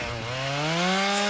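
A leaf blower roars in a horror-comedy movie scene, a loud, steady, buzzing engine drone that climbs gradually in pitch as it revs, with no voices.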